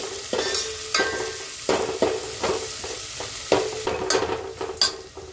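Onions frying in a pan with a pinch of salt, a steady close sizzle broken by regular scraping stirs of a spatula roughly every second, with no voices.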